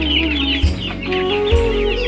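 Deshi Tiger and Faomi chickens on a poultry farm cluck and chirp continuously and loudly, with many birds calling over each other at close range and two brief low thumps partway through.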